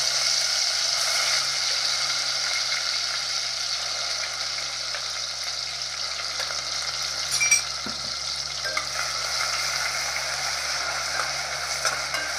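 Onion and coconut paste frying in hot oil for Maharashtrian mutton sukka makes a steady, even sizzle with a faint scrape of a spoon partway through, no talking.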